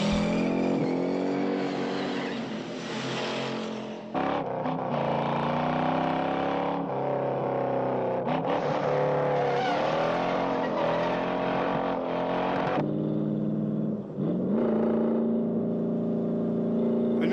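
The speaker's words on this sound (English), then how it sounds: "Followed by Stebe McQueen kind of overshooting the turn and has to back up really quickly" Cars in the Bullitt movie chase scene, including Steve McQueen's car overshooting a turn and backing up quickly, roar steadily with engine revs rising and falling and tires under a continuous loud drone, no talk.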